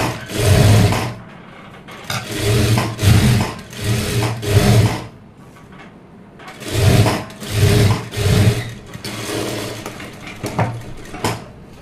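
A sewing machine stitches a blouse seam in repeated bursts of fast mechanical whirring, roughly eight close, loud runs separated by short pauses and a longer gap midway.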